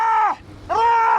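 A man yells two long, loud, strained cries with a brief gap between them while pushing a car stuck in desert sand in Saudi Arabia.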